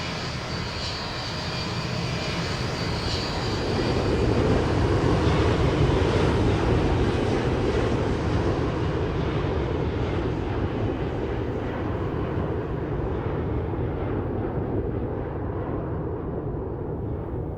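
Boeing 727 freighter jet engines roaring at takeoff power in FS2024, a loud continuous broadband rumble that swells after a few seconds and then holds steady.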